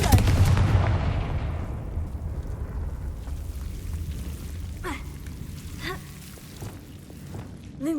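A Confringo fire-blast spell cast in the Hogwarts Legacy video game, a loud burst at the start that decays into a long fading rumble, with a few faint chiming sparkle sounds trailing after.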